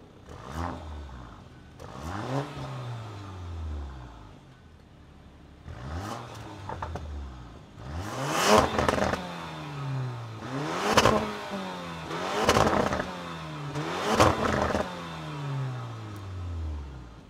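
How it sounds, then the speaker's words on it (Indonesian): Porsche engine in Sport Plus mode revs sharply in a series of bursts. Each climb in revs ends with crackling exhaust pops, and the later blips come louder and closer together, with no voices. "Kalau sport plusnya ini agak menarik dia. RPM langsung naik. Ada letupannya dia."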